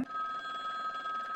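A telephone rings steadily in The Return to Freddy's 2, a horror game, with one continuous electronic bell tone that fills the short moment on its own.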